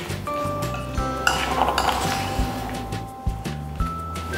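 Chocolate coating for biscuits being stirred in a bowl, with rhythmic scraping and clinking of a utensil against the dish, close and fairly loud.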